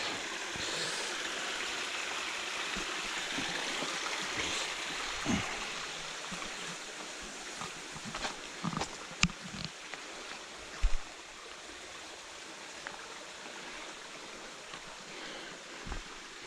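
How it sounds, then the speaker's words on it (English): A small outdoor stream runs with only a little water, a soft continuous trickling wash heard fairly faintly, with a few scattered footstep-like knocks and rustles. "the water's still running"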